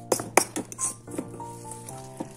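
Burger steak mixture with egg being stirred in a bowl, giving a few sharp utensil clinks against the dish and soft wet mixing sounds, close and fairly quiet with no talking.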